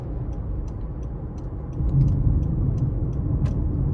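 A 2023 Honda CR-V Hybrid Sport 2.0 accelerates onto an interstate, a steady low engine and road rumble heard from inside the cabin that swells a little partway through, with faint ticking above it.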